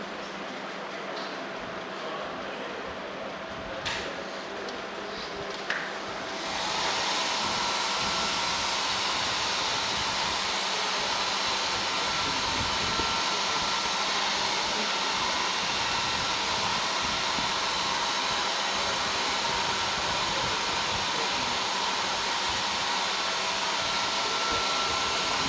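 Steady, loud whooshing roar of a hair dryer on air-dry setting, starting after a few seconds of quieter room noise and blowing continuously at close range.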